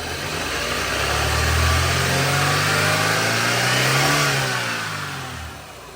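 Engine of a 1998-2002 Honda Accord after a timing belt replacement revving up, holding, then settling back down, a loud steady close rumble with no talking.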